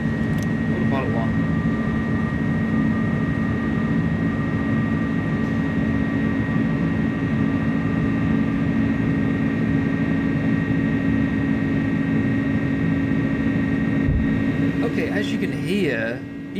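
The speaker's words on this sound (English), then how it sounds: "the engines are quite different. There's not as much of a buzzsaw effect because the engines generally just don't get into that range of sound." Airbus A300-600R with Pratt & Whitney jet engines climbing after takeoff in Microsoft Flight Simulator: a steady, loud cockpit engine drone with sustained tonal hum and broadband roar, constant throughout, with a brief click near the end.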